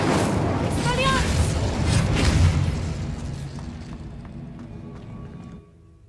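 The Incendio fire spell cast in Hogwarts Legacy on PS5, a booming burst that rolls out over a dense wash of game effects and then trails away to quiet.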